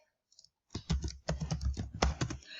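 Brief burst of typing on a computer keyboard while entering text in Excel, a quick close run of clicky keystrokes after a short quiet start, with no talk.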